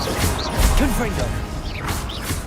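Confringo blasting spell in the video game Hogwarts Legacy: a short burst with a crashing whoosh that swells and fades over a steady game background, while a voice talks over it.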